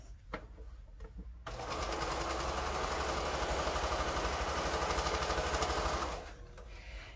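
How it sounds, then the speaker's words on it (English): Sewing machine stitching a straight seam on quilt pieces, a steady rapid mechanical whir that starts abruptly, runs for about four and a half seconds and then stops, with a quiet room before and after. "I'm just going to go ahead and sew them right on that seam with a nice straight seam."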